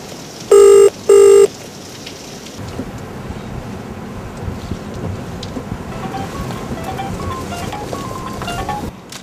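A telephone rings twice in two short, loud, close bursts, followed by a steady low rumble of road and wind noise inside a moving car.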